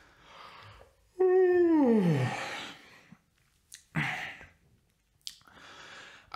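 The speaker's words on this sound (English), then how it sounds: "I've yawned, now it's your turn." A person yawns once, a long loud drawn-out vocal yawn falling in pitch, followed by soft breathy exhales and a few quiet sighs, close and alone.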